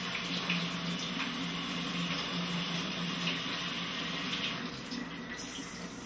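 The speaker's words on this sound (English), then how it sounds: "So I'm just going to go ahead and wash everything." Strawberries being rinsed under a running kitchen tap, a steady, close stream of water splashing into the sink for the whole stretch with no speech.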